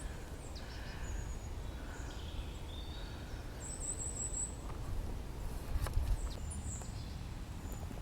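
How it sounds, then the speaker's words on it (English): Faint, scattered bird calls chirp at a distance in a Kent woodland in early March, over a steady outdoor hum, with no one speaking. "Can hear a lot of bird song."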